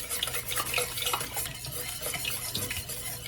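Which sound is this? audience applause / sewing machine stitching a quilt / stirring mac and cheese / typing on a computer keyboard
stirring mac and cheese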